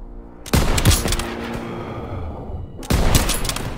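Sustained rifle and machine-gun fire from a World War II battle in Call of Duty WWII, dense overlapping bursts with two loud onsets, heavy and close throughout.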